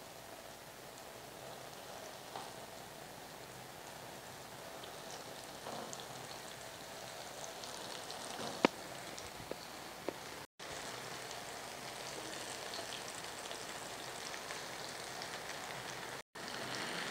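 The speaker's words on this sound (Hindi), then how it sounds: "अब हम इनको फ्राई करते हैं। ये देखिए, थोड़ा सा मैंने ऑयल डाला है" Garlic kebabs fry in about a quarter cup of oil, making a soft, even, continuous sizzle that resembles light rain, fairly faint throughout with a couple of tiny pops and no talking.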